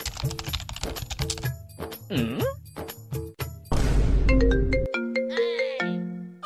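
A phone ringtone plays a bright electronic melody of quick repeated tones, loud and close, shifting into a longer chiming phrase near the end.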